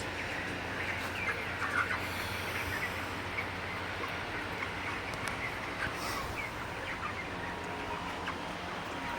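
Broiler chickens on their 31st day in a poultry shed make a constant low murmur of clucks and chirps, with scattered brief calls rising over a steady background hum of the crowded flock.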